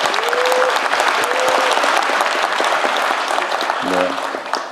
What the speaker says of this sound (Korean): 여러분 박수 크게 부탁드립니다.